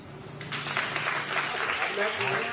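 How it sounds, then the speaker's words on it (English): Live comedy show audience clapping hands in a sustained, dense burst of applause, fairly loud and steady, with some cheering voices mixed in. "How many people are single in the audience? Clap your hands."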